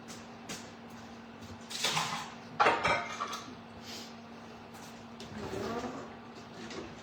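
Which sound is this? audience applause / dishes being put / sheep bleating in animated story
dishes being put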